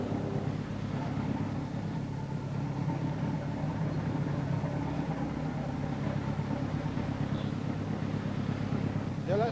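A 1,450-horsepower German Deutz diesel aboard a Tyne tugboat runs slow and steady, a continuous low engine rumble with wind buffeting the microphone throughout.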